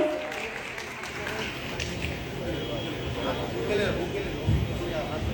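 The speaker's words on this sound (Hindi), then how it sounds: "आप सभी से मैं रिक्वेस्ट करूंगी एक बार जोरदार तालियां हो जाए" Steady applause from a crowd at a Pawan Singh fan event fills the whole stretch, with people speaking faintly underneath.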